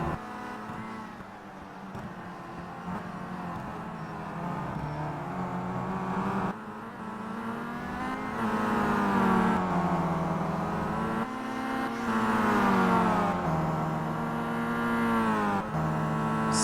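Seat Leon touring race cars in a simulated WTCC round at Mid-Ohio Sports Car Course, engines revving and shifting continuously as a pack, rising and falling in pitch with repeated upshifts, loud and close throughout.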